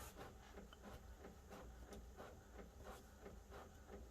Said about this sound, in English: If you can hear the printer going in the background,